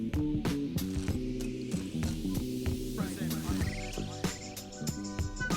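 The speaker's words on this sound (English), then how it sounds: "we'll let it just blend for about a minute or so" Stand mixer blending cookie dough for a DoubleTree-style cookie recipe, a steady loud mechanical whir with rhythmic clicking and rattling from the beater running continuously, no talking.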